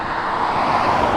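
Cars and trucks rush past on a busy road beside a foggy New Jersey lake, a loud, continuous roar of traffic that swells slightly without a break and with no voices.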